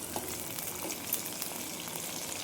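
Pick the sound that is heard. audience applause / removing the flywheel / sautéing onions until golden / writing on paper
sautéing onions until golden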